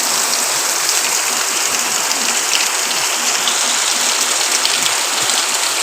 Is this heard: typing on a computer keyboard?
no